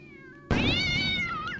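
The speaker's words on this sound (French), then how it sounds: "Impossible de l'attraper ce foutu chat, il a filé dans ses herbes hautes." A cat meows in the video game Nine Witches: Family Disruption, one loud, drawn-out wail that starts suddenly over a soft tonal music bed and fades near the end.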